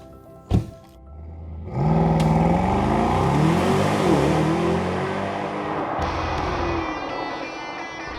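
A Mercedes-AMG GT 55 coupe heard from inside as it starts off: a door thunk, then the engine rises into loud revving acceleration through a couple of gear changes before settling into a steady cruise.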